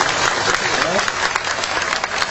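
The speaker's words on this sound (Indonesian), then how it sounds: "Sik, tepuk tangan." Audience clapping at a Cak Nun Sinau Bareng gathering, a short dense burst of hand claps with faint crowd noise underneath.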